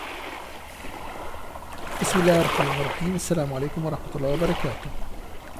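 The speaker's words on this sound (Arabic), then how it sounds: "بلاحظ انه في عندي صوت امواج بحر وفي عندي صوتي." Recorded sea waves played back in Audacity, a continuous washing surf layered with a voice track, with speech running over the steady wave noise through most of the clip.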